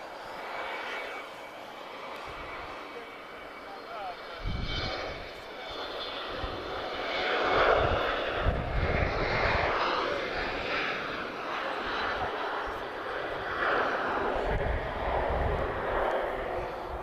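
An Embraer jet airliner at Lisbon Airport, a distant engine roar building and holding as it passes, under intermittent talk.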